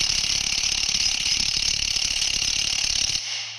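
A power wrench spins on a nut during a truck build while a transfer case is mounted. It makes a loud, continuous rattling mechanical buzz for about three seconds, then cuts off abruptly, leaving a quieter hum.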